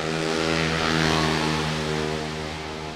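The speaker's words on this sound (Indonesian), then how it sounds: "Motor tu jangan bunyi kuat sangat boleh tak?" A loud motorcycle engine revs steadily close by, a dense, buzzing drone that swells and eases slightly over a few seconds, with no talking.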